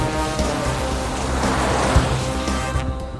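Rain pours steadily, a loud, close, continuous hiss with scattered droplet taps and no voices.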